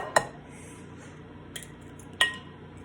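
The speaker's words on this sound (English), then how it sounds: "I can't get that egg cracked" An egg tapped against a bowl rim for a turkey burger mix, three sharp clicks spaced across a quiet stretch, the first and last strongest.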